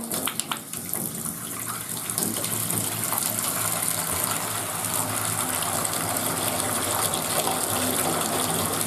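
Hot water gushes steadily from a tap, a loud continuous rushing stream that barely changes, with no voices.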